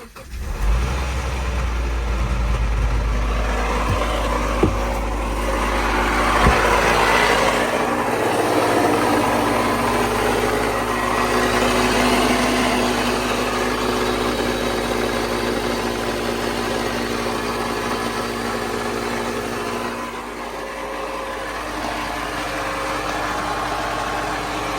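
A Subaru Forester engine runs right after installation with a suspected fault, a loud continuous rumble with rough, uneven revving near the start, then a steady churning drone that dips briefly before carrying on.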